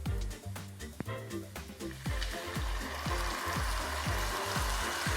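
Tomato puree for a duck confit lasagne sizzles in a hot pan, starting soft and then settling into a steady, close frying hiss over a rhythmic music bed.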